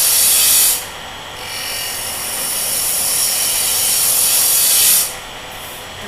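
A spindle roughing gouge slides across spinning wood on a lathe, producing loud, bright shearing hiss in sustained cuts with a short pause between passes, over a low machine rumble.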